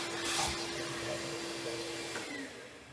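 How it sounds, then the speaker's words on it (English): A vacuum cleaner sucks loose junk out of the engine bay of a 1995 Firebird Trans Am, a steady close whine and rush of air with a constant hum running throughout. "The first step in cleaning this area up was to vacuum up any loose junk that was in the way."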